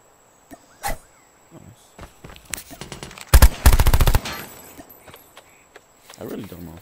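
Rapid bursts of video game gunfire, a short volley of dense automatic shots close and loud in the middle, with scattered single shots and light clatter around it.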